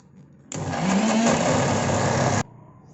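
Electric grinder coarsely grinding Goan dry fish pickle masala, starting abruptly with a loud, steady whirring roar for about two seconds and then cutting off, heard close and alone.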